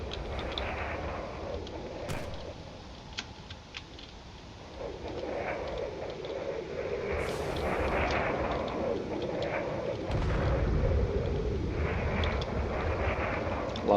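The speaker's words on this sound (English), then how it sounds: "Lots of missiles everywhere." Missiles launching and exploding in the drone combat game Drone Wars, a steady rumble of distant blasts and sharp firing pops building into heavier explosions toward the end.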